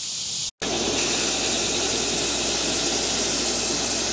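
A Rust-Oleum black primer aerosol can sprays onto parts of a 1966 Ford Thunderbird being refurbished. The spray is a loud, continuous hiss, cut off once by a brief gap near the start, then running unbroken.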